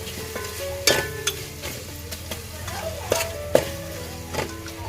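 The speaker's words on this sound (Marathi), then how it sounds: "आणि हळद धनिया मसाला घालते मस्तपैकी चांगलं परतून घ्यायचं आहे" A spoon stirs gravy in a hot pan as turmeric, coriander and Kashmiri masala are sautéed for a prawn biryani, with a steady sizzle and irregular metallic scrapes and clinks against the pan, close up.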